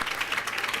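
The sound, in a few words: round of applause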